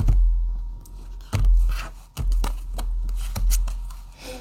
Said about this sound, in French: Alors, je vais mettre une carte dessus.